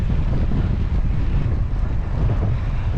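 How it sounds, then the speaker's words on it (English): Strong wind buffets the microphone on an afternoon bike ride, a loud, steady roar of gusting rumble with no speech over it. "Still very windy."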